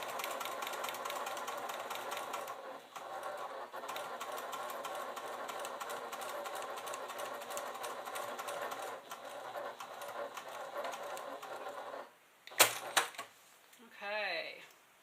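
A sewing machine stitches a half-inch seam on a clutch bag with a fast, even mechanical rattle that runs continuously, then stops, followed by a few clicks and a short whirring sound at the end.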